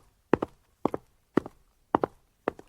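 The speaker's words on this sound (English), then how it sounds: "A guard's footsteps echoed from a distance." Five evenly spaced footsteps of a guard, each a double heel-and-toe thud, moderately close and alone, used as a sound effect in a narrated audio story.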